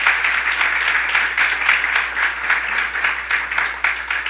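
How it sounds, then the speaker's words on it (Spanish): A church congregation applauding, a dense, steady wash of many hands clapping at moderate distance for several seconds without pause. "Denle un aplauso a Dios."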